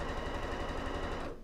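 A sewing machine stitches fabric in a fast, steady mechanical chatter of rapid needle strokes, close and even, stopping abruptly at the end with no voices.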